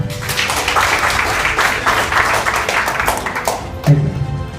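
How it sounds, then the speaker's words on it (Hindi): Applause from an audience at a corporate motivational show, a dense steady clapping that fills the room for several seconds before easing off. "एक बार जोरदार तालियां"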